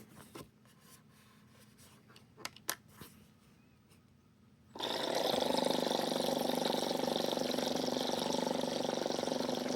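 An Offnova Immerge CISS ink pump with a defect, its small fins spinning too fast: a few light taps and clicks, then an abrupt switch-on into a loud, steady whirring hum full of bubbling that runs without a break to the end.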